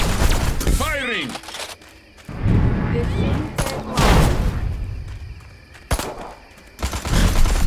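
Bursts of gunfire and heavy thuds in Destroy All Humans 2 Reprobed come in loud clusters separated by short lulls, mixed with sharp impacts and game voices shouting.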